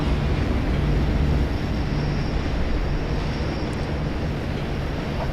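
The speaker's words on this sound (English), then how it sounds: "Warning. Tram entering confined space. Exercise extreme caution." A tram rumbles through a confined tunnel in the video game FEAR 2, a steady, loud low-frequency roar with rail-like droning that holds evenly for several seconds, with no voices over it.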